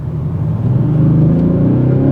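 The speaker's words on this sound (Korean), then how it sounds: "그리고 약간의 악셀링을 해보면은" A 2022 Audi S6 TDI diesel sedan revs up steadily with a deep, droning synthetic exhaust note, loud and close, rising slightly in intensity.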